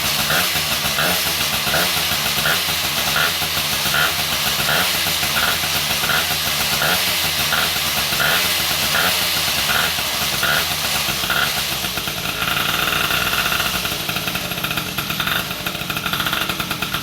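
An MBK 51 moped with a liquid-cooled Polini 70cc engine idles up close, a steady loud buzzing two-stroke with a regular pulsing beat that roughens slightly toward the end.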